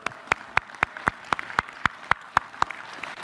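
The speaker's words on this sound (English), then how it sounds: "So let's clap from those guys." Sparse, sharp single claps ring out at an even rhythm, about one every quarter second, during a World Cup celebration event, with no talking over them.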